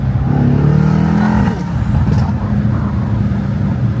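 A Mercedes E63S V8 accelerating hard: a loud, close engine roar climbing in pitch for over a second, then settling into a steady, heavy drone.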